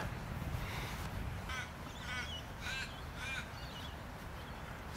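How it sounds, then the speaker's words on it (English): Several hoarse caws from ravens in a tree ring out at a distance over a steady outdoor hiss, spaced irregularly through the middle of the recording. "Sound of ravens over in the tree there."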